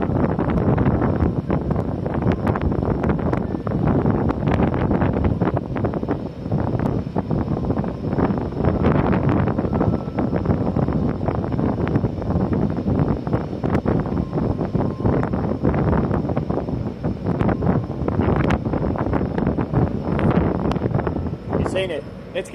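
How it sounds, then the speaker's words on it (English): Strong wind buffeting the open deck of an overnight ferry in Japan, a loud continuous roar and rumble with gusty surges, as a voice talks over it at times. "It's way too windy."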